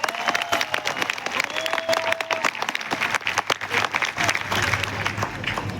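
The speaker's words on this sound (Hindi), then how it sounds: "हमारे AWL के फाइटर जो पहली बार आए उनके लिए एक बार जोरदार ताली बजाकर उनको स्वागत करो।" An indoor audience at a direct-selling company event claps loudly and steadily for newcomers, a dense, continuous round of applause with a faint voice over it.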